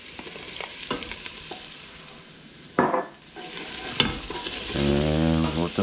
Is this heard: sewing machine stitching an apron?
no